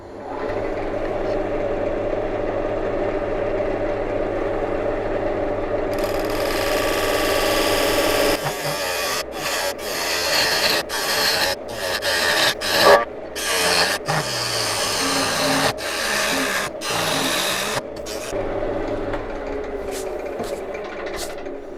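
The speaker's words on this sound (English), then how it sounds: "I will try first of all an ordinary scraper." Ordinary scraper cutting segmented wood on a lathe, a steady motor hum that turns into a loud rasping scrape, broken by short pauses as the tool is lifted, no voices.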